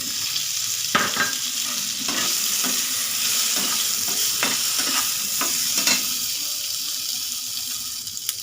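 Potatoes tipped into hot oil already tempered with cumin seeds, giving a steady frying sizzle with several sharp clattering drops and stirring knocks spread through it, close and fairly loud.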